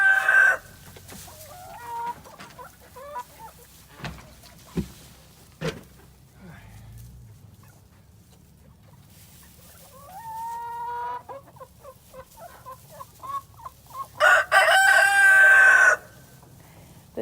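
Chickens cluck and squawk inside a newly remodeled farm coop, with scattered close calls, a loud burst of excited cackling and crowing near the end, and people talking intermittently among them.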